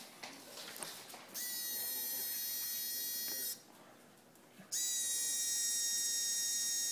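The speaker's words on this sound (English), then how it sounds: "when you turn the power on, you have the fan running" A small fan whirs in an air-powered vapor module prototype, a steady high-pitched electric whine that runs for a few seconds, stops briefly, then starts again, close and clear.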